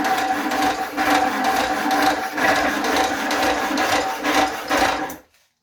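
Homemade power hacksaw driven by a roughly 1725 rpm motor cutting through stock, a rhythmic back-and-forth rasping with regular strokes about twice per second, close and loud, stopping abruptly at the end.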